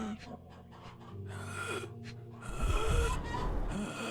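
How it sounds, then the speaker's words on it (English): Labored, wheezing gasps of a man struggling to breathe during an asthma attack in a Sherlock Holmes adventure game, ragged breaths growing heavier and rougher toward the end, heard close up. "He has trouble catching his breath."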